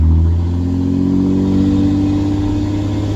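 A Ram 2500 pickup nicknamed Bertha, hauling a heavy load of about 9,500 lbs with a clogged fuel filter, drones along at a steady low rumble while driving, loud and close with no voices.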